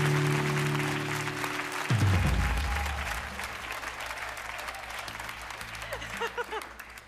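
Studio audience applause on a French TV singing game show, dense steady clapping with a low musical tone under the first two seconds, then continuing under faint voices.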